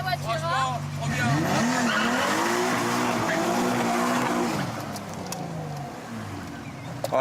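A car is driven fast and aggressively, with tires squealing in long, wavering whines over a loud engine that then fades; people talk over it.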